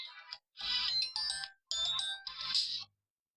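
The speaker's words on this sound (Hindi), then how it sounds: "ये मैंने सुबह से मोबाइल ऑन नहीं किया था जी, कॉलें आनी शुरू हो गई हैं" A mobile phone's ringtone for an incoming call plays as a short, clear melodic burst of bright electronic tones in a few phrases, then stops, with no talk over it.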